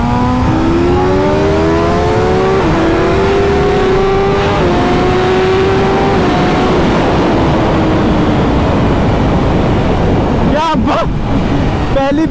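Superbikes, a BMW S1000RR, Hayabusa and ZX-10R, accelerating hard in a race: loud, continuous engine roar with rising gear-by-gear pitch sweeps, amid heavy wind noise and brief shouting.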